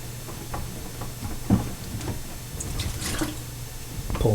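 Water trickles and drips irregularly from a bathroom sink trap into a bucket nearby, with small splashes and a low steady hum underneath.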